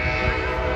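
A train crosses a bridge over the Chicago River, producing a loud, steady rumbling roar that fills the whole short stretch without a break.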